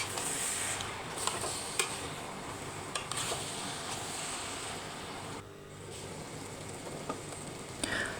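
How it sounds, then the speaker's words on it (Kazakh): Carrots and peppers fry in a pan with a steady soft sizzle, punctuated by occasional scraping clicks of stirring, fairly quiet and without talk. "енді үстіне перец саламыз, оны да жақсылап араластырып 5-10 минут қуырып аламыз"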